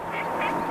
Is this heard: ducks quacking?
yes